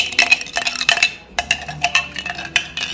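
A spoon stirs a tablespoon of Epsom salt into liquid in a glass, giving rapid, repeated clinks and scrapes in quick bursts, close and fairly loud, with a short pause midway.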